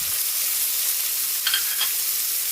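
Chicken liver stir-fries in a pan for chop suey, giving a steady bright sizzle throughout with a few brief scraping stirs partway through, close and fairly loud.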